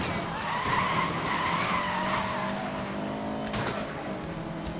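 A car accelerates hard in the racing game Need for Speed: Most Wanted (2012), its engine whining upward with tire squeal and skidding layered in, loud and continuous throughout.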